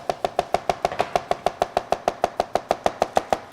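A knife chops garlic cloves on a cutting board, giving about twenty crisp, evenly spaced taps in a fast steady rhythm at close range, with no voices over them.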